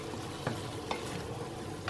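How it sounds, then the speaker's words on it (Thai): Butter sizzling in a pan during stir-frying, a constant low hiss with a couple of faint utensil scrapes. "แล้วก็เอาเนยไปผัด ไปเคี่ยวกับกระทะให้มันหอมๆอะไรเงี้ย มันก็ดีดนะเพื่อน"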